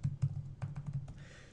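A computer keyboard is typed on at close range, a quiet burst of about eight quick, uneven key taps and clicks, heard alone without any voices.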